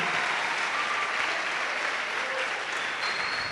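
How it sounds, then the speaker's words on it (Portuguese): A church congregation applauds during a communion service, dense steady clapping filling the room at an even, fairly loud level with no pauses. "Pode aplaudir a Jesus."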